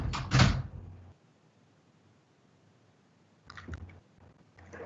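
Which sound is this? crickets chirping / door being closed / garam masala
door being closed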